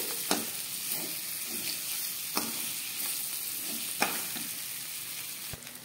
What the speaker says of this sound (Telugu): ఎగ్ పీసెస్ కూడా వేసి కొద్దిగా కొత్తిమీర కూడా యాడ్ చేసుకొని ఒక్కసారి ఫ్రై చేసుకోవాలి